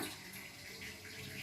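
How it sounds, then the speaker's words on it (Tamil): Curdled milk for rasagulla being strained, a steady, fairly faint stream of liquid pouring and splashing without a break; no talking. "இப்போ வந்து இதை வந்து நம்ம வடிகட்டி எடுத்துக்கலாம்."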